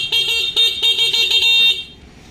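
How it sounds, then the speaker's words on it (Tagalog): A Yamaha Fazzio scooter horn beeps in a quick series of short bright honks, then one longer blast, loud and close before cutting off into quiet. "busina."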